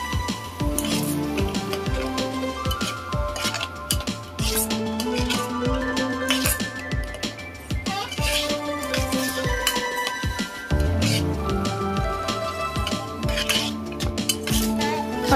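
A metal spoon scrapes and clinks against a pan while masala paste is stirred into hot oil, with steady repeated strokes and light metallic taps continuing throughout at close range.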